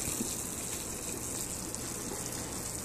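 Hot, freshly boiled water is poured in a steady, soft gush into a Vietnamese coffee maker.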